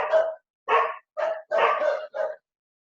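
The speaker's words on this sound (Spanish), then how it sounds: "Perdón el ladrido de los perros," Dogs barking at a house, five sharp barks in quick uneven succession with short pauses between, close and loud against silence.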